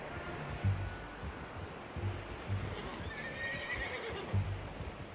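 A horse in Red Dead Redemption 2 snorts and whinnies several times while hooves clop along steadily underneath, fairly close, with a brief higher whinny near the end.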